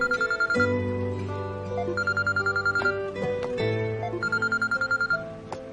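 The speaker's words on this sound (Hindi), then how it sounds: "अब किसका फोन है?" A telephone rings in three rapid trilling bursts with short pauses between them, clear and close.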